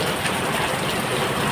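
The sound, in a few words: steady heavy rain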